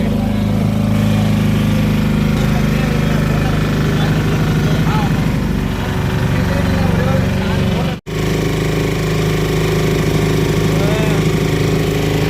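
A motor boat engine drones steadily and loudly on a trip back to the boat house through the Muthupettai mangrove forest near Chennai, with people talking over it and a brief dropout midway.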